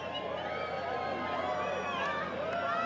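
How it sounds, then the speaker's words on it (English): Excited outdoor crowd watching the 2024 total solar eclipse as totality nears, many voices calling and cheering in a lively, continuous babble at a moderate distance. "Crowd's getting excited."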